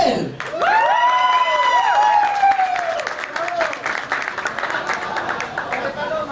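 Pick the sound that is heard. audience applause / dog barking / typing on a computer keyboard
audience applause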